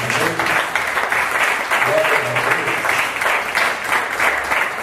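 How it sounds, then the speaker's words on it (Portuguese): A church congregation applauds after a Bible reading, with dense, steady clapping filling the room throughout and voices faintly mixed beneath it. "Vamos aplaudir essa leitura da palavra de Deus."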